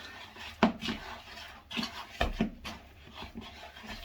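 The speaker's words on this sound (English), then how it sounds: "And I'll give it a bit of a mix up" Sourdough focaccia dough being mixed by hand, giving soft wet rubbing and squelching sounds with a few sharper knocks against the bowl, quiet and close with no talking.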